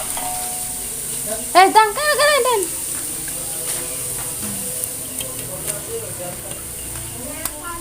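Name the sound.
frying rengginang rice crackers, sizzling and stirring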